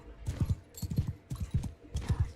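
Horse hooves pound in the video game Mount & Blade II: Bannerlord, four quick clusters of heavy galloping beats in a driving rhythm, close and fairly loud with no voices.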